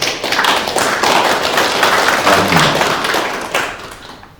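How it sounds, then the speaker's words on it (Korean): At the opening ceremony of a forum on livestock and agriculture air quality regulation, a room full of attendees applauds loudly. The steady, dense clapping fills the whole clip and fades only at the very end. "힘찬 박수를 좀 보내줬으면 고맙겠습니다"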